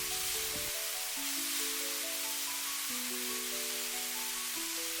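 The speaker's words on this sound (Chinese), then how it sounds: "快速翻炒均勻" King oyster mushrooms, taro and egg are stir-fried in a pan, giving a steady bright sizzle and hiss that runs throughout beneath gentle piano-like background music.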